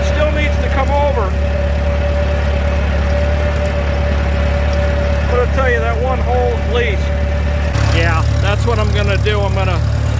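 A Farmall tractor engine runs steadily in first gear during field plowing, a constant loud low drone throughout, with someone talking over it.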